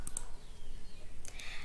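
Two quick, faint mouse clicks come close together at the start as a file is saved in Audit Command Language (ACL) audit software, followed by soft room noise and a brief rustle.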